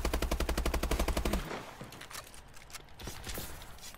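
Rapid automatic gunfire in a first-person shooter video game, a fast even burst for about a second and a half, followed by scattered quieter shots and mechanical clicks.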